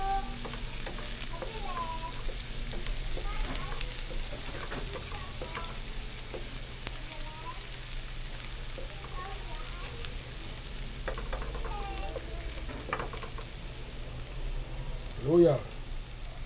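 Garlic sautéing in a pan, a steady low sizzle with scattered stirring clicks and scrapes running throughout, and one brief louder knock near the end.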